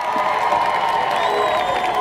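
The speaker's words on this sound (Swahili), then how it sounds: "ongezea makofi na vigelegele karibu" A crowd at a church gathering in Tukuyu applauds and cheers with ululation, a dense, loud, continuous wash of clapping and high trilling voices.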